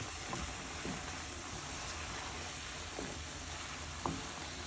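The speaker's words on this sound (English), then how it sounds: "We're going to add our black-eyed peas. Stir that in." Black-eyed peas stirred into a sizzling pot give a steady frying hiss with a few soft scrapes and clinks of the spoon spaced through it, fairly quiet and without talk.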